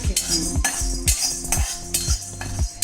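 A metal spoon scrapes and clinks rhythmically against a hot kadhai as chana dal is dry-roasted and stirred, with about five steady strokes, close and distinct, and no talking.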